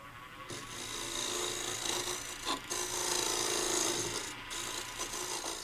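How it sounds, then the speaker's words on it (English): A skew chisel on a wood lathe, used flat as a negative rake scraper while turning a wooden gavel, gives a continuous close rasping scrape with a few brief louder rubs, with no talking. "I'm just going to use this skew as a negative rake scraper to clean this up"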